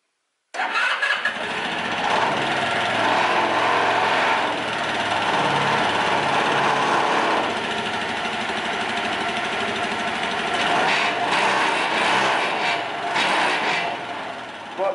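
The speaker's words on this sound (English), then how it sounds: "we're going to give the engine a little run" A small 125cc Royal Alloy TL 125 scooter engine cranks and catches, then settles into a steady buzzing idle with slight revving swells, close to the microphone.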